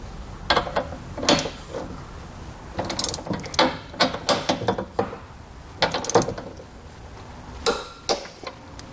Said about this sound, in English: you want to go back and torque it down